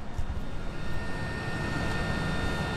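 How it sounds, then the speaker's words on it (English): Small cooling fans of LED headlight bulbs whir steadily, a constant airy hum with a thin high whine running through it and no pauses. "That is the fans of the two LEDs running on the right hand side"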